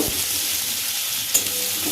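Onions fry in mustard oil for an egg mustard curry, with a steady, dense, close sizzle and a single brief clink of stirring.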